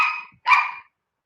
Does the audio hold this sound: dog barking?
yes